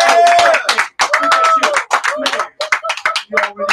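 Hands clap along in sharp, rhythmic bursts during a live radio show birthday moment, mixed in with loud, overlapping voices and singing close to the microphone.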